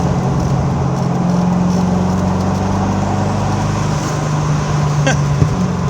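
A 1988 Callaway twin-turbo Corvette engine drones steadily from inside the cabin while driving, with the pitch shifting as it changes gear, no talking.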